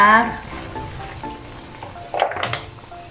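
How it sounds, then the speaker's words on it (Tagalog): Coconut milk is poured into pinakbet vegetables in a hot pan, bringing a brief sizzle and soft stirring scrapes, close and moderately loud, with no talk. "Kaya, isunod natin ilagay yung ating gata para"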